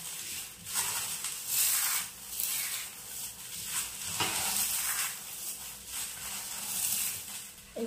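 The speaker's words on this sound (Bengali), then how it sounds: "এই যে কর্নফ্লেক্সটা আমি গুঁড়ো করে নিয়েছি" Dry-roasted cornflakes crushed into crumbs for a healthy energy laddu, a steady dry crackling and rustling scrunch with soft bursts of grinding, close and fairly quiet with no talk.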